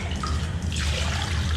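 Water runs from a full sponge into a bucket of drywall mud, a close, steady trickling splash that lasts through the moment.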